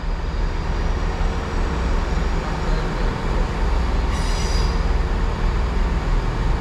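A cross-country train arriving at Bristol Temple Meads, a loud, continuous rumble of wheels and engine close by, with a brief high squeal partway through.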